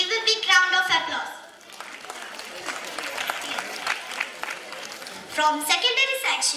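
Audience applause at a school annual day prize giving, with a dense patter of clapping between stretches of a voice over a loudspeaker at the start and end.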